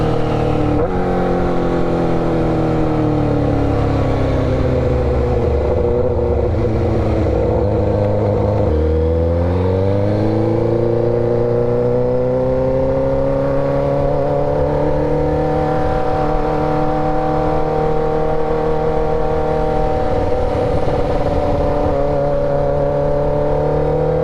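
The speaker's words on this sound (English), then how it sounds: "this is an inline 4. So obviously this is going to be a smoother sounding engine" An inline-four motorcycle engine revs loudly and close, climbing in pitch, dropping back briefly, then rising again into a long sustained high rev with a smooth, continuous tone.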